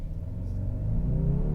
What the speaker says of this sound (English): It does have augmented engine sounds, which are ramped up when you are in sport mode.